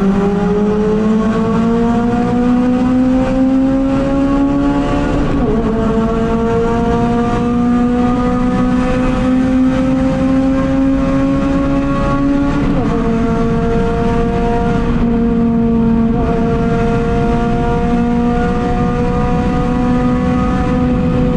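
Modified Honda Civic Type-R FN2 with a K20 engine revving hard inside a tunnel, loud and close, with several rising high-pitched pulls that drop and climb again, echoing off the walls, with no talking.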